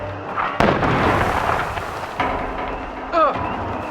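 A trout grenade goes off in We Happy Few with a sharp, booming burst, followed by a noisy, rumbling wash of game action and shouting voices.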